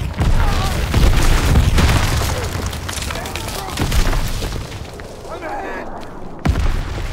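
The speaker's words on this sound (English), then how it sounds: "Yeah, I knew it was mortar fire coming in" Heavy mortar fire explodes in Call of Duty: WWII combat, with deep booms and crackling blasts rolling across a loud battlefield mix, a sharp impact landing near the end, and voices heard throughout.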